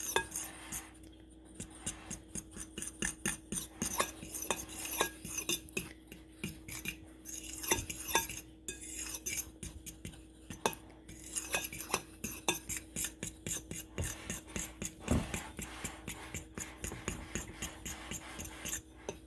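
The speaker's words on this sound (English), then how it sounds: "now I'm just gonna get a fork and just mix these dry ingredients together" A fork mixes dry cake ingredients for a Texas sheet cake in a bowl, a quick steady rhythm of scraping clinks against the bowl, close and alone for a long stretch.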